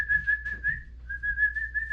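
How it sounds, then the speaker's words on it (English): A person whistles a clear, sustained single-pitch tone to call dogs, briefly breaking off before resuming, close and alone over faint background noise. "Then I'm going to whistle."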